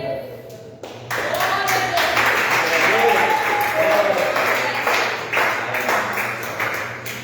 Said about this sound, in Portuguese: batam palmas para o Senhor